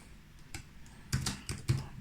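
Keys pressed on a ZX Spectrum Next computer keyboard, a handful of separate clacky taps at an irregular pace, close and fairly quiet against a faint background hum.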